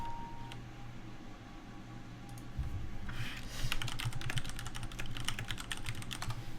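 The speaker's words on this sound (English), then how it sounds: "you guys will hear me typing" Someone types on a computer keyboard at a Dota 2 esports broadcast. It starts sparse, then turns into a quick burst of close, crisp keystrokes over a low steady hum, with no talking.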